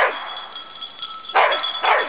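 Dog barking repeatedly at an outdoor dog training course with gates and cones, a few sharp barks at mid distance over steady background noise.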